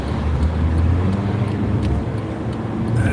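Low, steady engine drone and road rumble from inside or beside a moving truck, continuous and fairly loud throughout.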